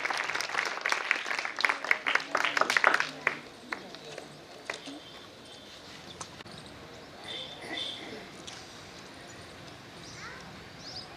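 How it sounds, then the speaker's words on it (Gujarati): An audience bursts into brisk clapping to welcome retirees, loud for a few seconds before thinning to scattered claps and fading out as voices continue in the room. "આપણે સૌ ફરીને એમનું સ્વાગત તાળીઓથી એમને વધાવી લઈએ"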